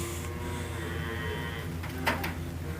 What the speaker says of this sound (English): You can hear the calves bellowing down the stairs.